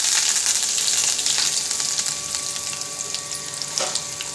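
Mustard seeds, urad dal and curry leaves sizzle steadily in hot oil, a dense, close crackling hiss that runs throughout, with a brief sharper spatter near the end.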